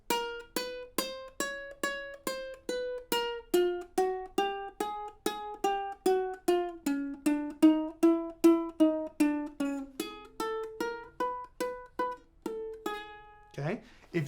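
Ukulele notes plucked one by one at an even pace, the pitch moving step by step along the strings, clear and close, with no talking.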